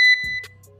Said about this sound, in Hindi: यहां पर आपने देखा एक बीप हो गया है चालू